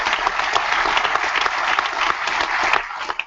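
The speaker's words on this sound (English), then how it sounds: "another round of applause, please, for everybody here" An audience applauds at the close of a Wings for Life World Run event, a dense burst of clapping from many people that swells and then tapers off near the end.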